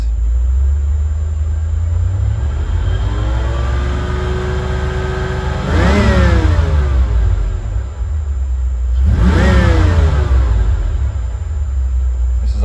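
A stock 1993 Ford Mustang with 76,000 miles on a drive test, its engine droning inside the car then revving up sharply twice, each rise climbing and falling through the gears, loud and close.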